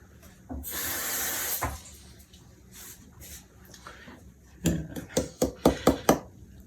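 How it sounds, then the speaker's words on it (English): Tap water runs at a kitchen sink for about a second while hands are rinsed, a steady hiss, followed by quieter handling noises and a short run of sharp knocks or taps near the end. "Rinse my hands off."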